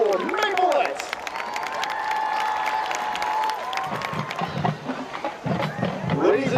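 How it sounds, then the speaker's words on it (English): Crowd applause and cheering at a 2015 high school football game against John Hope, with a dense wash of clapping and scattered shouts filling the stands, steady and loud throughout and swelling again near the end. "how about a big round of applause for your Geneseo High School Maplettes?"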